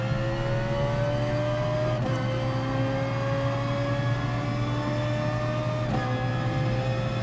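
A Ferrari race car engine in GT Sport at Suzuka holds a steady high-revving drone, with two quick gear shifts cutting through the continuous roar.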